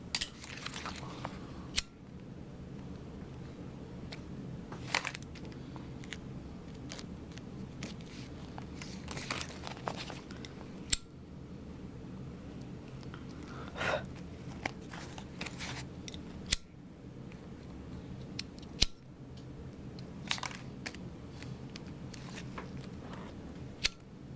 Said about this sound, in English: Cut my extra zipper tape here.